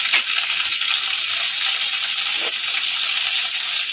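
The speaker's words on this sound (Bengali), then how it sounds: "কড়াইতে সর্ষে তেল বসিয়ে দিয়েছি, তেল গরম হয়ে গেছে। ঢেঁড়সগুলোকে সব আমি ভেজে নেব" Okra fries in hot mustard oil in a wok, giving a loud, dense, continuous sizzle close by, with a couple of faint stirring knocks.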